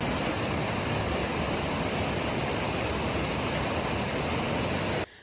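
Kitchen Creek on the Pacific Crest Trail rushes past in a loud, close, unbroken hiss of flowing water that cuts off abruptly at the end.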